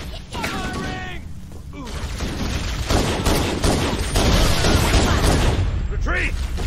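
Gunfire in Halo: The Master Chief Collection during a firefight against the Covenant, with dense, loud bursts of shots and booms rolling on continuously, with voices heard briefly among the shots.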